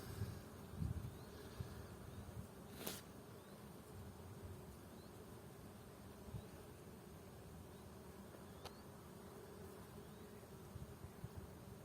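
Continuous low buzzing of many bees close by over a buckwheat field, a steady drone with occasional faint clicks and rustles.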